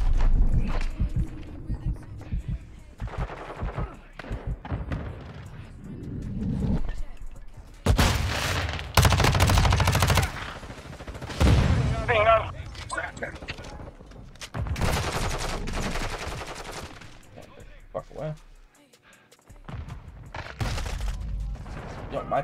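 Automatic gunfire in Call of Duty Modern Warfare II comes in several loud bursts with booms and the crackle of a firefight. Footsteps and a man's speech are heard at times between them.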